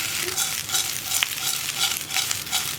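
A spoon stirs and turns an oats kozhukkatta mixture in a pan, with a continuous sizzling hiss and repeated scraping strokes, close and fairly loud, no voices.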